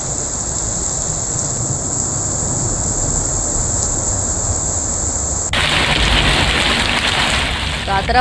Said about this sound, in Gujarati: અમરેલીના જાફરાબાદમાં પણ ધોધમાર વરસાદ વરસ્યો છે